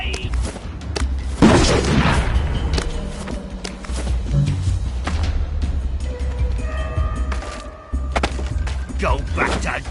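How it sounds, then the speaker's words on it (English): A grenade blast in the video game We Happy Few, a sudden loud booming burst early on followed by rumbling thuds and clatter, with shouting voices over the game noise. "Grenade!"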